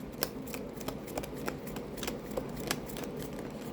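Tarot cards shuffled in the hands at close range, with a steady run of crisp riffling slaps and flutters, several sharper snaps standing out, over a low room hum and no talking.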